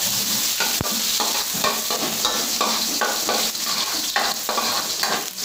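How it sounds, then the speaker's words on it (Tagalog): Garlic sizzles in a frying pan for chicken adobo, a dense continuous frying hiss broken by rhythmic scraping strokes of a stirring utensil and one sharp clink, close and without speech. "Ang ating kawali, ilalagay na natin ang ating bawang."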